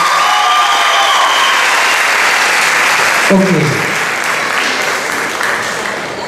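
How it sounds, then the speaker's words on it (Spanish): A loud, dense round of applause from the audience at a summer dance show in Breña y Los Olivos greets a dance group. It runs steadily throughout, with a brief voice and some cheering rising through the middle. "Un aplauso más para ellos"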